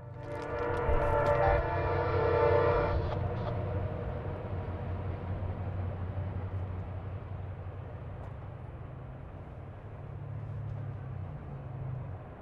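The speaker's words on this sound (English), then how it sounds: "The end of the rack train passes" A CSX freight tie train on the B&O line at Green Spring rolls past at close range, a steady rumble of wheels and cars with a brief horn-like tone early on, fading slowly as the end of the train goes by.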